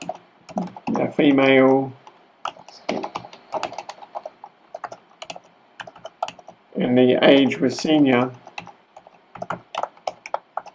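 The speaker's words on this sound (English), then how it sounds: "I'm having a good day with typing." Fingers tap rapidly on a computer keyboard in quick, uneven bursts of sharp clicks, close and clear, while someone speaks intermittently over the typing.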